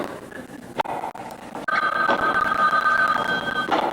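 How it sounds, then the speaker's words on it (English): An indoor telephone bell starts ringing after a few soft knocks and shuffles, a steady, moderately loud trill held for about two seconds against faint room noise. "Phone call for Judge Loomis."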